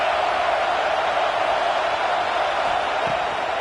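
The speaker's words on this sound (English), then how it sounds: "Decibels rising as the crowd gets behind this defense on 3rd down." A stadium crowd in the College Football 26 video game makes a steady, dense wash of roaring noise as it gets louder for the defense on third down. No words are heard.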